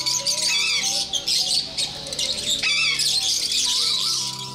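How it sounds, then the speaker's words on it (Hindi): Colorful parrots of many species at a zoo, squawking and chirping loudly and constantly, with overlapping harsh calls close by. "बीस से ज्यादा इकसाम के रंग बिरंगी तोते हैं।"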